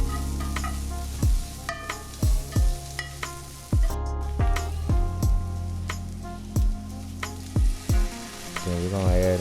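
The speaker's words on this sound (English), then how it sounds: "And go and add another tablespoon of oil to it. Gonna give that a quick mix." Eggplant sizzles in oil in a pan while being mixed, its steady frying hiss broken by repeated loud scraping and clattering bursts at an uneven rhythm.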